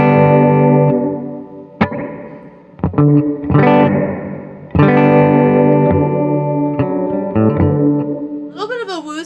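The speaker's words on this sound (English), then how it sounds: "A little bit of a woozy chorus kind of vibe." Electric guitar through a Walrus Audio R1 pedal with a woozy chorus modulation, playing loud sustained chords and single notes with a wavering, swirling shimmer, ending in a warbling pitch-bent flourish.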